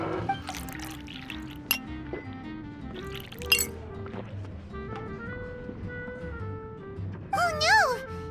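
Drinks being poured into glasses at a party scene in Genshin Impact, with liquid trickling and glasses clinking amid music and soft chatter.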